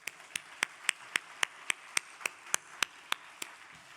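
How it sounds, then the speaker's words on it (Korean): Hands clap in slow, regular unison during a Tuesday chapel service: about a dozen evenly spaced, crisp claps sound fairly faint against a quiet room, with no talking. "먼저 하나님께 영광의 박수 드리겠습니다"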